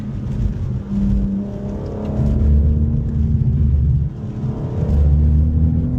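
A BMW M4 Competition drives a winding California road, its engine rumbling low and close as revs rise and fall through bends, with a steady interior drone throughout.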